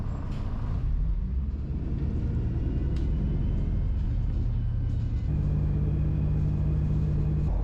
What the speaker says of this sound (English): And the little bus has no problem getting us up the hill out of Great Torrington.